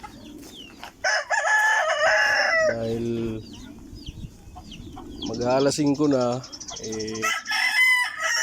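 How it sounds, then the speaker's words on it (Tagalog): Chickens cluck and a rooster crows loudly nearby, repeating several times, while someone talks over the birds. "Papatuka tayo ng ating manok ngayon sa ating munting paalagaan ng manok."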